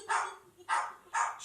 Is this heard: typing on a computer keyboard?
no